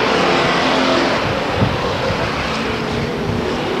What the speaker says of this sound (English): Steve Hall still holding down at first place in car number 3.